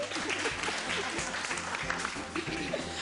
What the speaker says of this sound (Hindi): तालियां बजा दो इसके लिए।